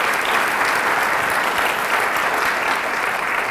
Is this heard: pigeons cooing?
no